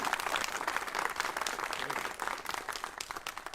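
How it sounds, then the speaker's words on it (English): Audience applause for exhibition curators at a museum event, a dense wash of many hands clapping, fairly faint and steady from start to finish. "give the curators a round of applause"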